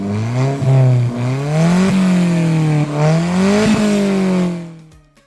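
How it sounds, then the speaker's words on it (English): An Alfa Romeo 4C Spider's little four-cylinder engine revs loudly through its exhaust, rising and falling in repeated pulls with a raspy note and brief shift breaks, close and heard alone. "Listen to the exhaust. It sounds pretty good for a little 4-cylinder."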